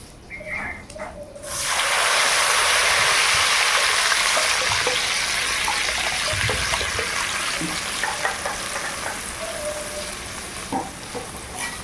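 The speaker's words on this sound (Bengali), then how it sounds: "জল দিয়ে দেবো।" Water is poured into a hot pan of chicken biryani, setting off a sudden loud sizzle that settles into a steady hiss and bubbling with a few light clinks.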